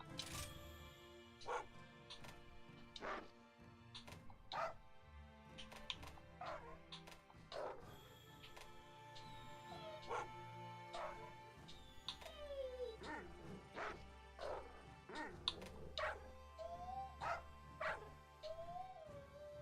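A small, yappy dog in Monster Hunter Rise: Sunbreak barks in quick, high yips and whimpers, repeated many times over steady background game music.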